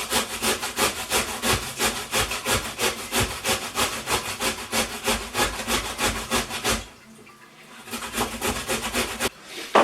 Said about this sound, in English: we're literally just going to grate the potato